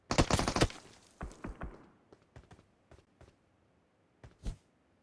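A spray of gunfire in PUBG Mobile: a fast, loud burst of shots up front, then sparser, fainter scattered shots and distant pops trailing off.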